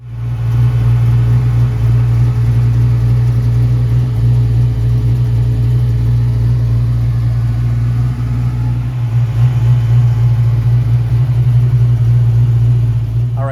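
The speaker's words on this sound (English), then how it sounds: "I'm going to go for a little test drive" A Ford Mustang Fox Body engine drones loud and steady from inside the cabin on a test drive, a constant low rumble with only slight shifts in pitch.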